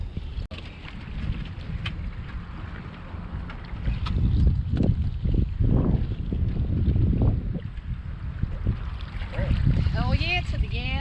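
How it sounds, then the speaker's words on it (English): Strong wind buffets a crabbing boat out on the water on a cold winter day, a steady loud roar of gusts and microphone wind noise, with a few voices speaking over it near the end. "And it's pretty windy"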